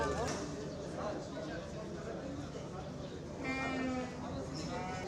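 A goat bleats through a noisy outdoor gathering at an agricultural support handout ceremony in Tarsus and Çamlıyayla, with quavering calls near the start and end under the murmur of people talking.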